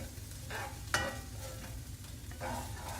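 Mexican fried rice sizzling steadily in a pan, with repeated scraping and stirring strokes and a few sharper clatters of the utensil against the pan, fairly close and with no talk.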